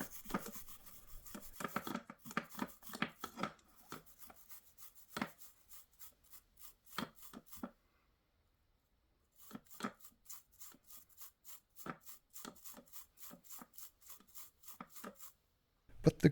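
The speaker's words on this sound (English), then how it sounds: "I clean the antenna socket with isopropanol and a brush" A small brush scrubs a radio transceiver's antenna socket with isopropanol, giving rapid scratchy strokes in close bursts, a pause of about two seconds, then more steady rhythmic brushing.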